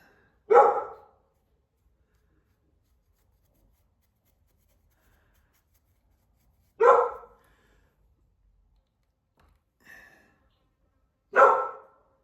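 A dog gives three sharp single barks spaced several seconds apart in a quiet room, each loud and close, with a fainter short sound between the last two.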